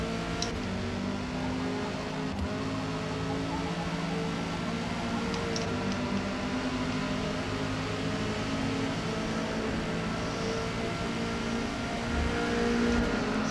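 A race car's engine in the Forza racing game drones steadily at a low level, a constant mechanical hum with no clear revving peaks and no voices.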